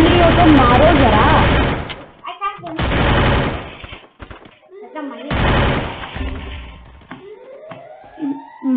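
Bursts of Parafal rifle fire in the Free Fire mobile game, loud rapid volleys in several separate bursts with short gaps, mixed with other game effects and sweeping tones.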